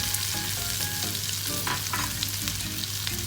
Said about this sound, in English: As soon as butter melts, add ginger garlic paste